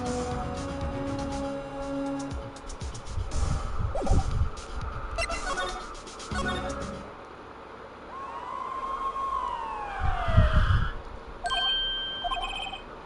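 A police siren in a video game wails in rising and falling sweeps midway through, set among other game sounds and growing as it approaches.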